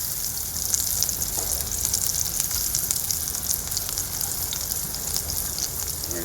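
Burger patty sizzling in a hot pan after being flipped, a steady close hiss of frying fat with fine crackles throughout, no voices.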